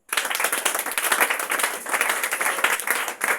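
A congregation bursts into sustained applause, many hands clapping densely and loudly together for about three seconds, with a brief dip near the end before the clapping resumes.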